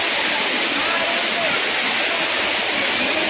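The Anayadikuthu waterfall at Thommankuthu roars as a loud, steady, broadband rush of falling water, heard up close and unbroken throughout.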